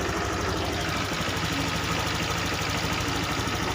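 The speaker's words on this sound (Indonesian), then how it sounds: "Kita hidupkan motor." A motorcycle engine runs at a steady idle with an even, rapid mechanical pulse and light clatter, close and continuous with no voices.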